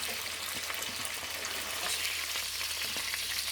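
Sucuk sausage frying in oil in a pan: a dense, steady crackling sizzle, close and fairly quiet, with no talking.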